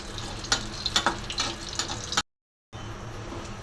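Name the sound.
dried chillies frying in mustard oil in a pan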